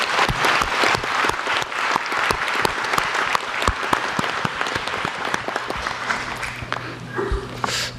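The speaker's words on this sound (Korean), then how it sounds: "박수 한번 부탁드립니다" Loud, dense applause from a large crowd at a public town-hall style briefing in Daejeon as lawmakers are introduced, sustained and even with crisp individual claps standing out, fading slightly at the end.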